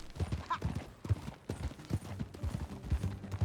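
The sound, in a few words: horse hooves clip-clopping in video game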